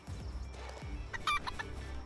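Clucking chicken in the video game Palworld, several short bursts of clucks and squawks over a low background rumble, fairly faint and with no speech.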